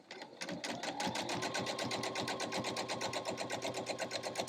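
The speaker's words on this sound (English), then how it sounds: "sew another 1/4 inch right down the side here" Sewing machine running steadily, stitching a quarter-inch French seam along the side of a small fabric pillowcase, a fast, even rhythmic clatter heard up close with no talk.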